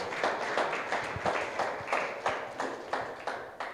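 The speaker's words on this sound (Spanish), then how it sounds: "Dale un aplauso al Señor." Steady, dense clapping from a church congregation, a sustained round of applause with rhythmic accents, fairly distant and even in loudness throughout.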